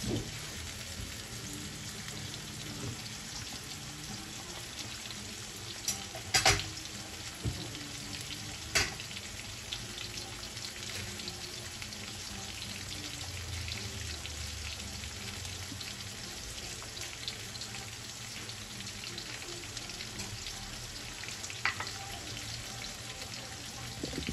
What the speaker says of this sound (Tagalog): Masarap pong prito-prituhin itong ating kamatis.